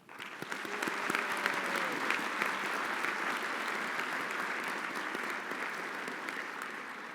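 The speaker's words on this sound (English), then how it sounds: "Please join me in a round of applause" Applause from the audience at a graduation ceremony, building quickly into dense, even clapping from a large crowd that holds steady, with only a slight fade, for several seconds.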